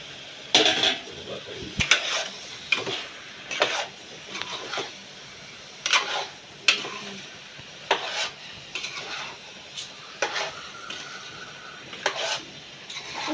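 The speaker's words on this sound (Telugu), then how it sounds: "ఇప్పుడు ఈ ముక్కలు వేసి కలుపుకోవాలి" Goat meat pieces stirred into fried onion paste seasoned with chili powder and salt, a series of sharp metal clinks and scrapes of a spoon against the pan over a faint sizzle, close and irregular.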